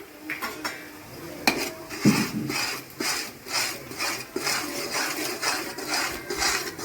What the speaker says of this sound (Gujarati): આદુ મરચાની પેસ્ટ અંદર સંતળાઈ ગઈ છે